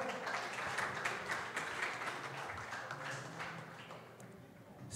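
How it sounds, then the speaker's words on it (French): Dense applause from the audience at an interschool quiz-competition semi-final, honouring the two teams: a steady wash of many hands clapping at once, sustained throughout and slowly easing toward the end, with faint background voices. "je vous demande encore une fois d'applaudir très chaudement les deux équipes"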